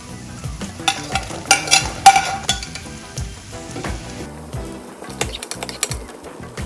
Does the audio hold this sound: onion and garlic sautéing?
yes